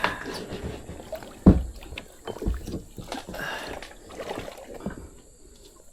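Kayak paddle strokes dip into evening water in Southeast Asia, faint irregular splashes and trickles with one sharper splash, close and quiet.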